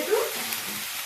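Chili powder hitting hot oil for a sambar gives a brief, close sizzle that rises quickly and then settles into a soft, even fry.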